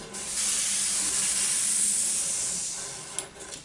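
Compressed air from an airbrush compressor vents with a broad, steady hiss for about three seconds, then fades away with a couple of small clicks, close by and with no speech.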